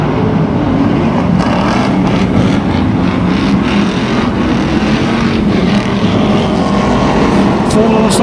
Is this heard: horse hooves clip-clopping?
no